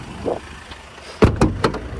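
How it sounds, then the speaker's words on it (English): A Volkswagen Caravelle 2.0 BiTDI van door is opened, giving a sharp latch clunk followed by a couple of quick mechanical knocks and rattles, close and fairly loud after a short quiet stretch. "just open the door"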